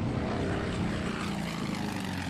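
Propeller drone of a torpedo plane in the Coral Sea naval war game, a steady, loud engine hum running continuously with no talk.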